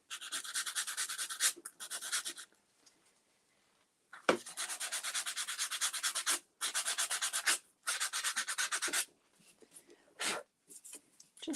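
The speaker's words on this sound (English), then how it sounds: "I'm just going to grab my sandpaper." Sandpaper rubbed by hand over a rough cut edge of a craft piece, heard as bursts of dry, scratchy back-and-forth strokes with short pauses between, close and fairly loud, no talking.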